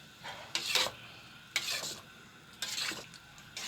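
Spoon stirring sohan halwa mixture with cardamom powder in a pan, three short scraping strokes with brief pauses between them, close and fairly soft.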